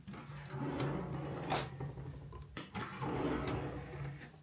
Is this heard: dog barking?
no